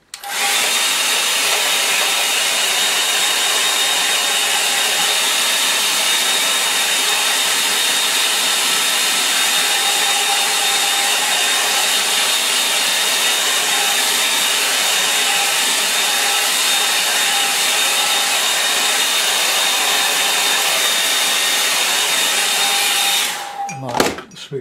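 A hair dryer drying a watercolour line-and-wash painting, a loud, steady whooshing roar with a whining motor tone held for over twenty seconds before being switched off near the end.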